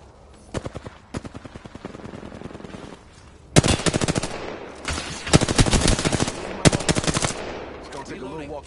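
Rapid automatic gunfire in the shooter game Apex Legends, several close, loud bursts of shots separated by short pauses, with occasional voice chat in the background.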